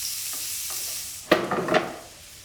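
Good-quality smoked bacon (poitrine fumée) frying in a pan, with a steady soft sizzle broken by a few close scraping bursts as it is stirred, brief and alone with no talk.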